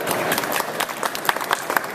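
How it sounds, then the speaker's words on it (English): A crowd claps in steady, lively applause that continues without pause for a couple of seconds. "Give a little bit of applause for her"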